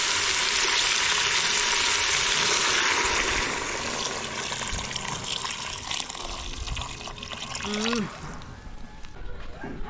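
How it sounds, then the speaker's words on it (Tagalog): Water pours steadily into a cooking pot on a home stove while a broth with moringa leaves is being made, a broad continuous splashing stream that eases off partway through, with a short voice-like sound near the end. "Lagyan natin ng tubig mga bay."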